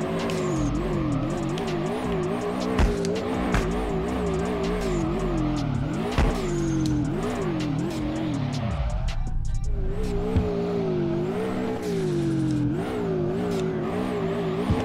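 A Toyota AE86 drifting in the racing game DRIFT21, engine revving loudly and rising and falling through the corners while tires squeal and skid almost without a break, handbrake slides breaking the pitch.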